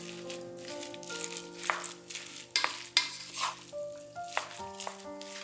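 A sakura shrimp rice cake mixture is stirred with broth in a pan, giving soft scraping and sticky stirring sounds with a light sizzle over quiet steady tones, no talking.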